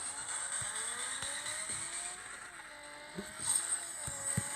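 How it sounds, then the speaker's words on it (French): Nissan 370Z engine in the Need for Speed video game, a steady droning tone rising and falling in pitch as it revs, with occasional tire squeal and thumps, loud and continuous throughout. "la vraie Nissan 370Z fait pas du tout le même son dans la vraie vie"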